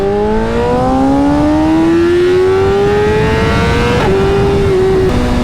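A sport motorcycle's engine note climbs steadily, then blips and drops in quick steps as it downshifts. The sound is loud and continuous throughout, with no voices.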